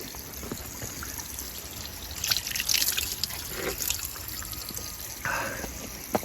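Drinking water tap at Glastonbury festival dripping and trickling outdoors, a steady soft splashing with brief louder spurts of running water, no talking.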